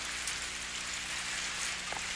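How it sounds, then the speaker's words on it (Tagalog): Rain begins falling in a Doraemon cartoon scene, a steady broadband hiss of rainfall filling the background evenly with no voices. "Ah! Umuulan!"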